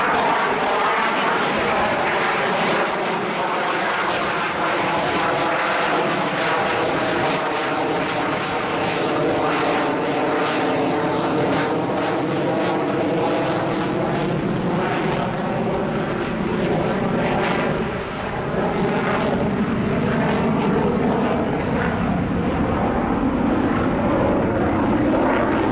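Lockheed Constellation four-engine propeller airliner making a slow, high-angle-of-attack pass at an air show, its piston engines droning loud and steady throughout with a wavering, shifting pitch as it passes.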